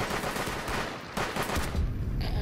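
Pistol fire in a video game gunfight, with quick bursts of sharp shots in two clusters, fairly loud and close, dropping to a quieter tail at the end.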